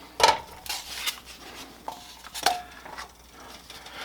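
A pound of ground beef goes into a lightly oiled pan over medium heat, with a few sharp clanks of utensil on pan followed by softer scraping and stirring noises.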